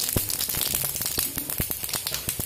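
Panch phoron spices crackling in hot oil in a kadai, soft close pops and sputters in an irregular patter at low volume, with no voices.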